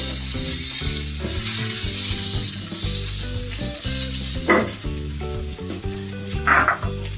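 Gram flour being stirred into a chickpea paratha filling in a hot pan, giving a loud, continuous sizzle with scraping stir sounds throughout.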